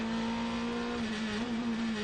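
A Corvette Z06 GT3 race car runs hard on track in an LMGT3 endurance race, its engine holding a loud, close, steady note that wavers slightly near the end.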